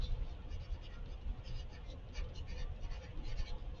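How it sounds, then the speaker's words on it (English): Steady scratching of a drawing tool writing a word across paper during a realistic sphere drawing, a close, continuous rasping texture with small strokes pulsing throughout and no talk. "and I'm going to write the word mid-tone."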